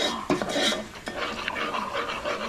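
Milk and white cheese stirred together for pasta in a home kitchen, a spoon scraping and clinking against a pot with brief taps and a steady mixing swish, close and fairly soft.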